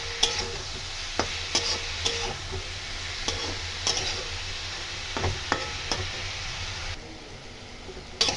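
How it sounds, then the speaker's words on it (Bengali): Potatoes and spinach sizzle as they are stirred and fried in a pan, with a steady low frying hiss broken by regular scrapes and knocks of a spatula against the metal. "এবার নাড়িয়ে নাড়িয়ে পুরো ভাজা ভাজা হয়ে গেল"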